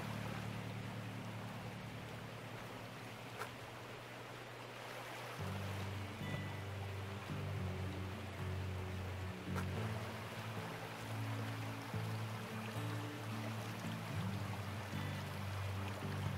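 A pump drawing water from a lake or riverbed through a long hose in the mining game Gold Rush: The Game, a steady low engine drone over a rushing watery hiss that shifts pitch midway and carries on evenly.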